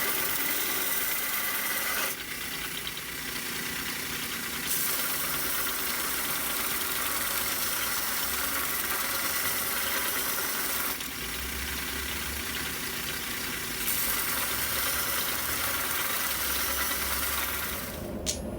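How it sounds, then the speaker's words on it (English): A belt sander runs steadily in a blacksmith's workshop, giving a loud, continuous grinding whir with a couple of brief dips in intensity and no talking. "I'm just getting used to this BS. Belt sander, that is."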